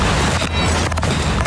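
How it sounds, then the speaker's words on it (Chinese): An RPG rocket strikes an Israeli tank in combat news footage, a loud booming blast with dense rumbling noise that fills the whole stretch, recorded at close range. "轰炸以军坦克。"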